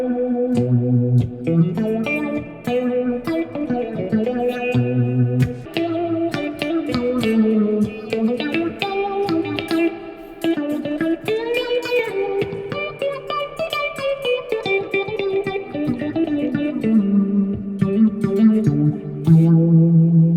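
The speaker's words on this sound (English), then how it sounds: "So next up, we have a phaser." Electric guitar run through a tiny phaser pedal, a busy melodic line of chords and single notes with a sweeping, swirling modulation, steady and loud, no talking.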